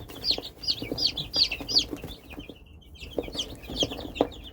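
Backyard chickens, Norfolk Greys with one small silkie, cluck in short close bursts and a steady busy chatter, with a few louder calls near the end.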